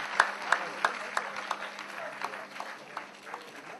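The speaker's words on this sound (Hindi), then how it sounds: "एक बार जोरदार तालियां, यह अत्यंत सुखद क्षण।" Scattered audience clapping at a felicitation ceremony for actresses, a few distinct claps rising from a quiet hall, fairly faint and thinning out over a few seconds.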